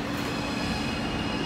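A steady, loud rumble fills the inside of a moving, empty subway car heading to World Trade Center, with constant low droning and rattling noise and no talking.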